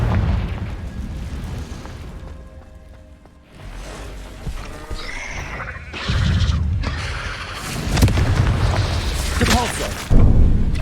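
A Confringo fire-blast spell from Hogwarts Legacy bursts in a few heavy booms with crackling spell effects, loud and near, the last blast hitting hardest near the end amid ongoing game noise.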